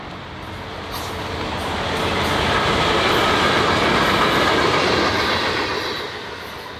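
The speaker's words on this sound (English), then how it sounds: "Florida East Coast Railway local train 915 appeared headed northbound." A Florida East Coast Railway local freight train led by a GP40-2 locomotive rumbles past northbound at close range, its steady roar swelling and holding for several seconds before easing off, with faint rail clatter in the wash of noise.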